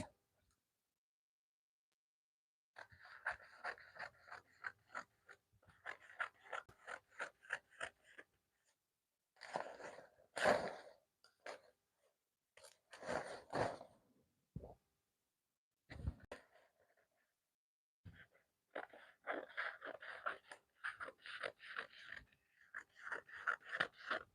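Scissors cutting fabric for palazzo pants, with bursts of rapid snipping in several runs separated by pauses, close and fairly quiet, with occasional louder handling thumps.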